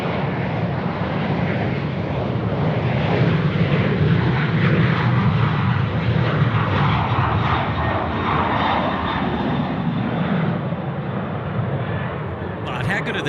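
Fixed-wing aircraft engine roaring near the third runway at Sydney Airport, a loud, sustained rumble filling the whole stretch close by, with voices talking underneath.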